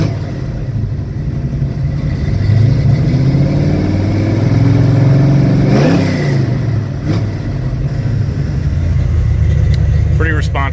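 A 1975 Ford F-250 pickup truck engine with a Comp Cams 279 cam rumbles loudly and revs up in rising surges, with someone briefly talking over the steady motor noise.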